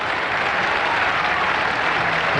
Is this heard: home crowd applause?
yes